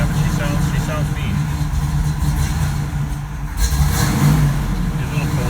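A 1967 Pontiac Firebird convertible engine idles while still cold, a loud, close, slightly uneven rumble that runs steadily throughout as people talk over it.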